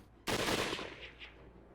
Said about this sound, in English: more gunshots had echoed behind us